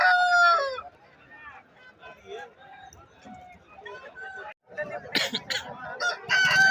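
A rooster at a country chicken market for native and fighting birds crows loudly at the start, then clucks and rustles come through as people talk nearby.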